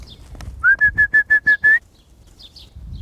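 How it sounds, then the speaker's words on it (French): A person whistles a quick series of six short, steady high notes in an even rhythm, close by, with quiet background before and after. "désolé pour ce petit sifflement"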